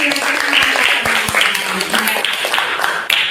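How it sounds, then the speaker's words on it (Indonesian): A classroom of students claps for two classmates, a steady close burst of applause lasting a few seconds. "Oke, kita beri aplaus untuk Kalila dan Pati Razi."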